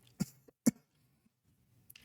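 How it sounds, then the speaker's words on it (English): One person gives two sharp, short coughs close to the microphone, the second louder, followed by quiet and a faint brief sound at the end. "I'm kind of caught on the coughing."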